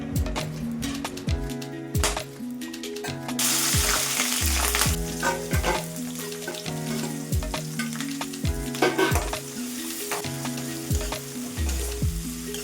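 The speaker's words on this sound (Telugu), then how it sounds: "ఉల్లిపాయ టమాటా పచ్చిమిరపకాయలు అండి ఇవి కొద్దిగా వేగిన తర్వాత అవి వేసుకొని వేపాలి" Onion, tomato and green chillies sizzling in a pan for fried rice, a steady frying hiss broken by repeated clinks and scrapes of a spoon stirring against the pan, close and fairly loud.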